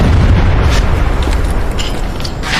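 A loud, deep explosion rumbles through a film scene, a sustained heavy boom with dense low-end roar filling nearly three seconds without pause.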